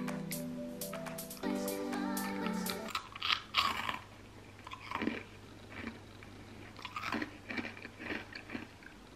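Crisp crunching bites and chewing of freeze-dried astronaut ice cream, a series of close, irregular crackles, with music playing in the background at the start.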